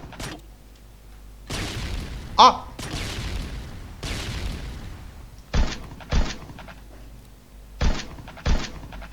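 Bombs thrown and exploding in a video game, several dull thuds and booms spaced apart, some in quick pairs, with quiet stretches between them.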